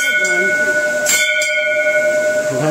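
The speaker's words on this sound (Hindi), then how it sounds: "घंटी" A bell rings at a Shiva temple in Gariaband district, a sustained metallic tone with a couple of sharp strikes near the middle, heard over steady outdoor background noise.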